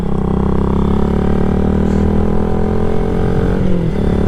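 Honda Grom 125 motorcycle being ridden, its small single-cylinder engine droning steadily at close range with a slight pitch rise and a brief dip near the end.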